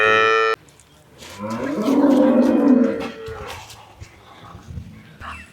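Dairy cows on a farm moo in a long, loud, nearby call that swells and fades, followed by quieter animal sounds and low background noise.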